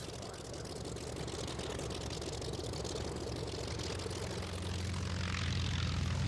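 A Grumman Wildcat warbird propeller aircraft takes off at the Duxford airshow, its engine a continuous, fairly loud drone that grows slightly heavier toward the end.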